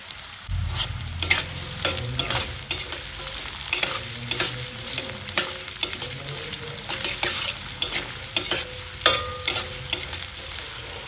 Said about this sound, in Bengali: ছোট ছোট টুকরো করা গাজরগুলো আমি এর মধ্যে দিয়ে দিচ্ছি